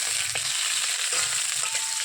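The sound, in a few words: dried puti fish frying in oil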